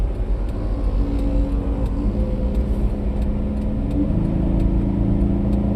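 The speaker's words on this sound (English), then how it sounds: "I got a truck on one side, I got a bicyclist on the other" A truck passes on a highway: a loud, continuous engine and tire drone with a shifting mid-pitched whir, heard close from a moving vehicle, with no talk.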